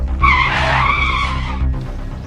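A car brakes hard and its tires skid with a loud, sustained screech that lasts nearly two seconds over a low engine rumble, then fades as the car stops.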